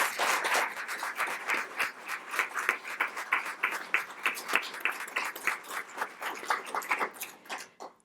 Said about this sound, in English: please join me in thanking the candidates with our applause